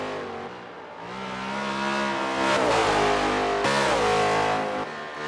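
Holden V8 race cars howl on the final lap, a loud engine note rising through the gears with sharp shifts, swelling as the cars pass close by.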